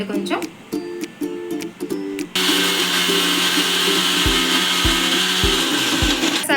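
A mixie grinder blitzes green chillies, garlic, tamarind, salt and cumin for an Andhra-style cucumber chutney: a voice talks over quiet clinks first, then the motor kicks in with a loud, steady whirring grind and a few dull knocks near the end.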